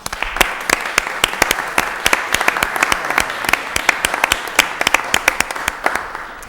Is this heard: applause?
yes